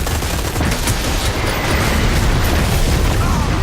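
A C4 charge detonates in the online shooter Dirty Bomb, a loud, dense blast that fills the whole short clip with continuous roaring noise and rumble, with no quiet gaps.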